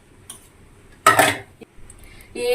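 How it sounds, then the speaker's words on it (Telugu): A lid goes onto a cooking pot with one sharp metallic clank in a quiet kitchen, followed by a few lighter scrapes and taps. "అంతే, ఇంకా మూత పెట్టేసుకుందాం."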